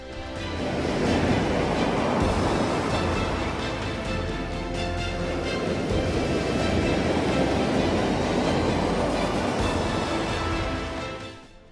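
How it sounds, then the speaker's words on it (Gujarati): High sea waves crash against a stone protection wall on the coast at Navsari, giving a loud, continuous roar and surge of surf that runs unbroken from start to finish with no voices. "નવસારીમાં સંરક્ષણ દિવાલને દરિયાના ઊંચા ઉછળતા મોજાએ તહેસ નહેસ કરી નાખી"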